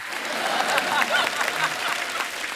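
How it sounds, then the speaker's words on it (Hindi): A studio audience on a comedy show applauds steadily throughout, a dense wash of clapping hands with faint voices mixed in. "एक बार जोरदार तालियां हो जाएं"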